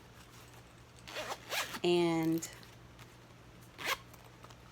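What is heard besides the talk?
zipper on a Dooney & Bourke bag compartment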